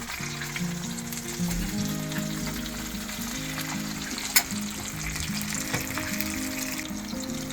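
Two sole fillets sizzle steadily in a hot pan of butter, a continuous frying hiss with one sharp pop partway through and no talking.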